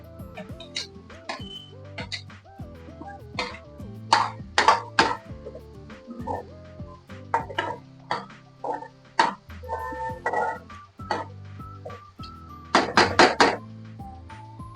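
Tomatoes go into a pan while a suran (elephant foot yam) vegetable dish cooks, bringing a busy run of metallic clinks, scrapes and knocks of a spoon against pots and pans, loudest in clustered bursts near the end, with no voice.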